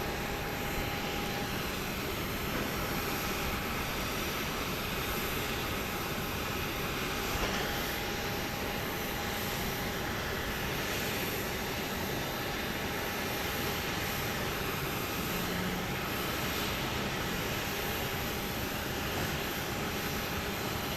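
A NetJets Cessna Citation Latitude business jet idles before takeoff at Dallas Love Field at night, its engines giving a steady, fairly distant roar with a faint thin whine running throughout.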